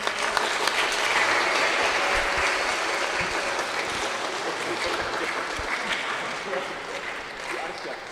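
Audience applause fills a school project presentation session, a dense, steady round of clapping that stays loud throughout before easing slightly near the end.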